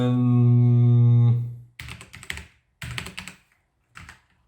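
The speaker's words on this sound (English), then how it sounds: "we're going to type quick for quick format" Quick bursts of typing on a computer keyboard while entering a USB flash drive format command, three clusters of close, crisp key clicks separated by pauses, following a steady electronic tone; a voice speaks a single word.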